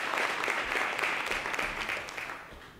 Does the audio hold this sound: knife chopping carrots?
no